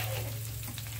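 An egg sizzles and crackles in a frying pan with onion and green chili, a steady close hiss with no talking.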